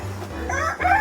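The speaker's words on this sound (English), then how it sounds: "It's a very fancy chicken." A fancy rooster on a chicken farm in a mountain town near Davao, Philippines, clucks and gives short, close crowing calls, loud and alone without talk.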